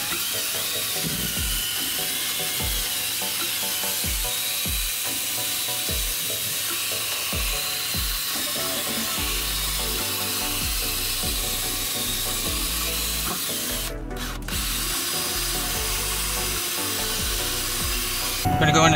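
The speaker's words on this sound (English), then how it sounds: "I'm going to hit it with the drill brush." A drill brush scrubs the carpet of a Jaguar during spot removal, a whirring, rubbing buzz with repeated short passes early on, then a steadier grinding scrub.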